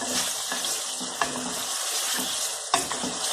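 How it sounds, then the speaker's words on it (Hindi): Chicken pieces being stirred and fried in ghee for a black pepper chicken karahi, a steady close sizzle broken by a couple of sharp scraping stirs, with no voices. "ये देखिए चिकन को मैंने अच्छी तरह घी में भून लिया"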